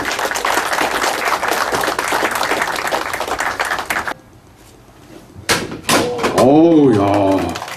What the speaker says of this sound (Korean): 여러분 축하의 박수